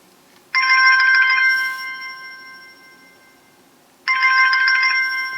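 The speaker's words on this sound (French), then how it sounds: "Vous avez plusieurs sonneries et le son est vraiment bon." Two loud bursts of an electronic ringtone from a No.1 S3 smartwatch, each a bright tonal chime that rings and then lingers, separated by a few seconds of quiet.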